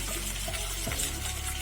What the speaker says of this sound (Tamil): இப்போ தண்ணி சேர்த்து வேக விட்டுடலாம்.